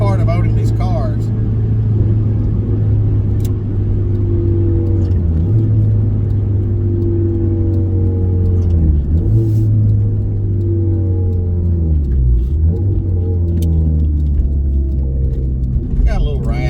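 A 1988 Honda CRX Si drives along a narrow near-one-lane road, its engine droning steadily with slight raspy tone and shifting pitch as the car slows and picks up speed, someone talking over it.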